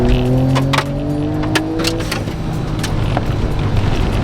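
A mini Ferrari F40 replica built on a Mazda kei car drives along, its small engine droning steadily with a rising tone early on, road and tyre noise close and constant throughout.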